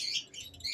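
Albino lovebirds, a breeding pair, give a short burst of faint, high twittering chirps in an aviary.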